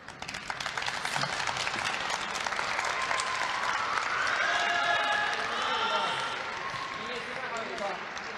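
Thunderous crowd applause fills an arena after a women's free skate at the 2023 China National Senior Figure Skating Championships. It swells to a broad roar and then eases slightly while a commentator talks over it.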